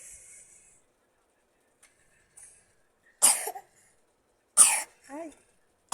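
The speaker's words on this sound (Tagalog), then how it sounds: "Ay, ubo." Two sharp coughs, each followed by a short voiced rasp, ring out close and loud in a quiet home, with faint hissy background and small clicks between them.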